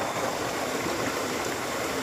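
Steady rushing irrigation water flows continuously through a field channel at night, a broad even wash of noise with no voices.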